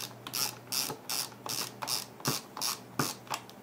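A standard Phillips screwdriver turning out screws on the bottom of an Intel NUC D54250WYK mini PC gives a quiet, regular ratcheting click, about eight bursts evenly spaced, close and alone.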